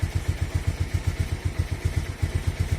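A Bajaj Pulsar 150 motorcycle engine runs close by with a steady, even thumping pulse at a low, idle-like pace, without any clear rise in revs, and no one speaks.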